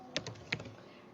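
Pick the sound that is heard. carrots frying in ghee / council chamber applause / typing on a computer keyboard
typing on a computer keyboard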